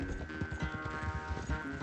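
Galloping horse hooves from a race in Red Dead Redemption 2, a rapid, rhythmic thudding of hoofbeats that runs continuously over a dense bed of music and game ambience.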